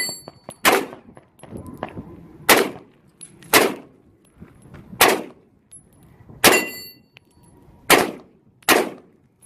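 A new 7.5-inch AR pistol fires six sharp, loud single shots, spaced roughly a second and a half apart, each ringing briefly with faint outdoor ambience in between.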